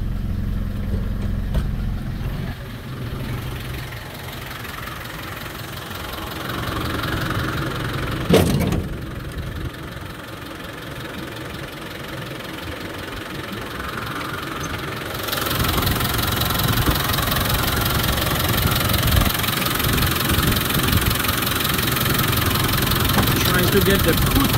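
A classic Land Rover Defender 90 engine idles steadily with a low rumble, growing a bit louder partway through, with a brief clunk near the middle.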